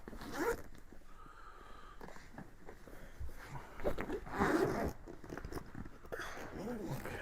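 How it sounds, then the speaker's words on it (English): A zipper on a bag is drawn open in a few close, rasping pulls with short pauses between them, fairly quiet and with no speech. "Can we unzip that, please?"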